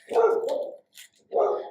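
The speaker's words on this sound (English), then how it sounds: "he barks that loud that you will hear him no matter where he is" A loud dog barks twice at the neighbours from close by, a sharp, full bark followed after a brief pause by a second one.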